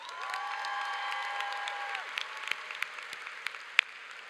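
An audience applauds the Glee Club at a 2022 commencement ceremony, a steady patter of clapping from a moderately distant crowd, with a sustained sung or held tone fading out early and sharper individual claps standing out toward the end.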